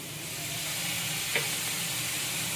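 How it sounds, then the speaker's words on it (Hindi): Soy sauce and chili sauce stirred into a chicken spring roll filling in a hot pan, a steady close sizzle and hiss with a faint scrape of stirring. "ये चिली सॉस। इसको भी मिक्स कर लेंगे।"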